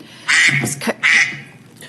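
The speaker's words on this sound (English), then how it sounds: "Was that a duck?" A duck quacks nearby in a few loud, nasal calls, with two main bursts in under two seconds and no talking over them.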